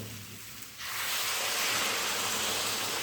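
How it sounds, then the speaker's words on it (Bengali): Hot water poured into a pan of spiced potato and raw jackfruit curry over a high gas flame, a sudden loud rushing hiss that starts under a second in and holds steady to the end. "এবারে গ্যাসের ফ্লেমটা বাড়িয়ে দিয়ে এর মধ্যে ঝোলের জন্য দিয়ে দেবো গরম জল"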